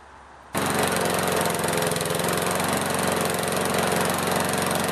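A lawnmower engine, just cleared of hydro-lock, fires up abruptly after a brief quiet and runs loud and steady at a constant throbbing idle until it cuts off at the very end.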